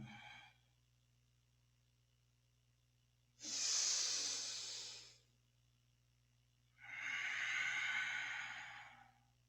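Two long, audible breaths during a Kundalini yoga morning kriya, an inhale followed after a pause by a forceful exhale, each a few seconds of airy rushing, close and clear over a low steady hum.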